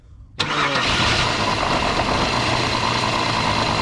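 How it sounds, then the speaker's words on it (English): An old Pontiac car engine catches with a sudden burst and settles into a loud, rumbling idle close by, with a throaty exhaust tone through two tailpipes. "Go, crank it. Ah, You hear that muffler?"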